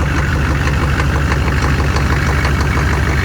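A running engine idles roughly and loudly after firing on a 30 degree cold start, a steady dense rumble with a fast knocking pulse throughout, close up and without talk.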